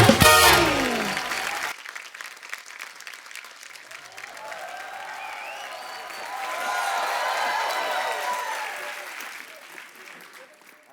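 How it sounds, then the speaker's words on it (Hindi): A studio audience on The Kapil Sharma Show, an Indian TV comedy show, breaks into sustained applause and cheering with whistles after a brief loud burst, a dense clapping wash that holds steady before easing off. "जोरदार तालियां हो जाए।"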